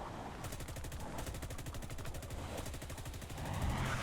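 Aircraft cannon fire in War Thunder: a rapid, evenly spaced stream of shots runs almost the whole way, loud and steady against the drone of the plane.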